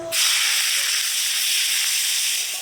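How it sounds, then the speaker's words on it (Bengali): Chopped onion hits hot oil in a kadai with a sudden loud hiss, then keeps sizzling steadily and close. "এবার দেবো পেঁয়াজ কুচি"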